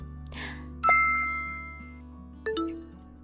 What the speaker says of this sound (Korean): 누가 이 시간에 초인종을 누르는 거야?